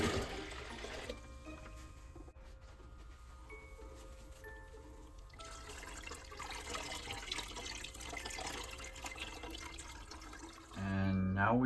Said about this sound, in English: Now we siphon the wine into the secondary container.